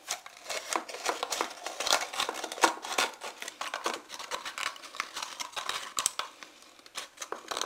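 Scissors cutting into a plastic bottle, a close, busy run of rapid crunchy snips and crinkling plastic crackle that continues without pause and is heard on its own.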